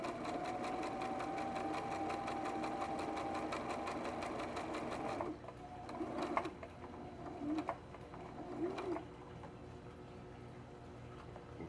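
A sewing machine stitches a fabric drawstring pouch in a steady whirring run for about five seconds, then stops, followed by a few quiet handling clicks and short stitch bursts nearby.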